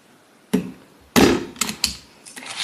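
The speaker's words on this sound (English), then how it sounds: "you can watch the hammer going down and make sure it's in that crease" A hammer taps on a paper crease while a 6x6 scrapbook mini album is being made, giving several sharp knocks at irregular intervals, close and fairly quiet, with no talk.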